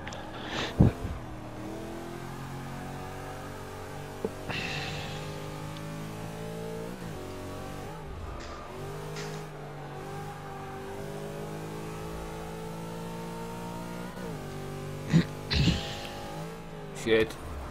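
A car engine revs and drones continuously while racing in Forza 6 through the streets of Prague, with rising and falling pitch and occasional sharp knocks; a voice talks over the game sound.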